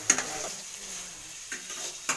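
Gobindobhog rice fried rice stirred in a pan by a young girl: a soft frying hiss with three distinct scraping taps of the spatula, close and unhurried.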